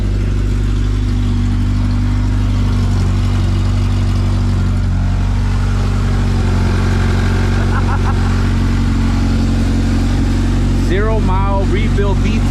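A Honda CRX with a swapped B20Z engine idles steadily after its first start, a low, even rumble throughout, and a voice briefly speaks near the end.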